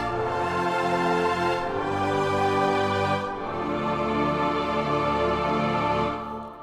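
A rich, sustained keyboard chord progression moves from a IV chord that resolves to the I, full lush harmonies changing a few times and fading at the end, with no voice.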